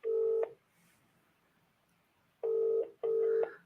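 A house telephone rings with an electronic double-ring tone: the tail of one burst, a pause of about two seconds, then a quick pair of loud, steady tonal bursts close together.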